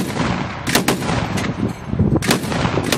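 Gunfire near villages below the Raco mountains: several sharp shots ring out at irregular intervals over a rough, noisy background, with no voices.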